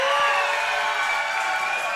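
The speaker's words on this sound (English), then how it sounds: "listen to this crowd come alive for RJ Carnage" A crowd at a live pro wrestling event roars and cheers for RJ Carnage, a dense and continuous wall of noise.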